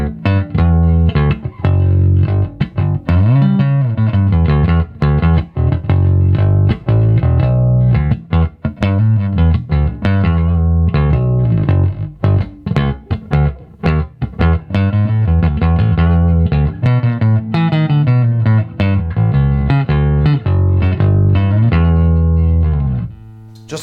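A Fender Custom Shop Dale Wilson masterbuilt '70s Jazz Bass with a maple neck, played loud and heavy, with thick low notes, punchy plucked attacks and brief gaps in a steady riffing line.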